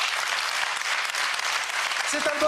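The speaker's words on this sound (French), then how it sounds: "et vous pouvez l'applaudir" A television studio audience gives a continuous, fairly loud round of applause for a singer as her album goes gold; a voice briefly surfaces near the end.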